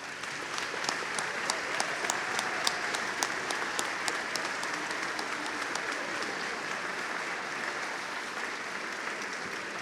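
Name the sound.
audience applause for middle school band directors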